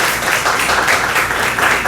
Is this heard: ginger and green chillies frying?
no